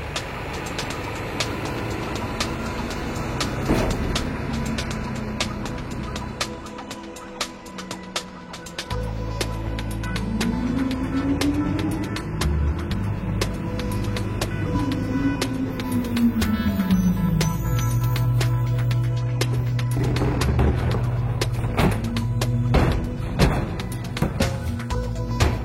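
A garbage collection truck with a mechanical arm empties bins, its engine droning steadily while hydraulics whine rising and falling, punctuated by clanks and thuds of the container being lifted and shaken.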